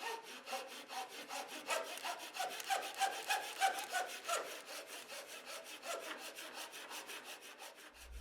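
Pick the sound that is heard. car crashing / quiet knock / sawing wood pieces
sawing wood pieces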